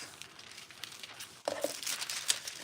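Textile foil rustles and crinkles close by as a piece is cut from it, soft handling at first, then louder crackling and snipping in the second half.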